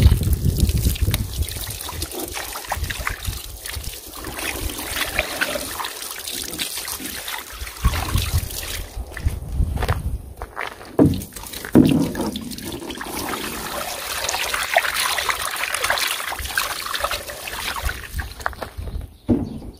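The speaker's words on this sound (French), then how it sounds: "donc ça c'est toute la saleté de la jante qui coule" Dirty rinse water, purple from heavy iron contamination, runs and trickles steadily off a car wheel rim in a continuous close splashing wash that lasts throughout.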